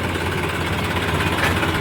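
A tractor engine idles steadily in a rain-soaked farm field beside a temple plot, a continuous close, loud mid-low rumble with faint vibration and no talk.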